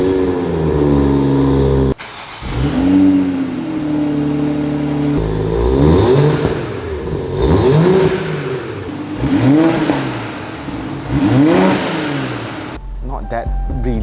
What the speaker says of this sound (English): The exhaust is titanium by SAT as well.